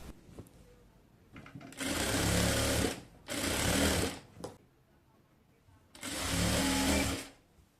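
A sewing machine stitches the side seam of a top in three loud, steady bursts of a few seconds each, separated by quiet pauses.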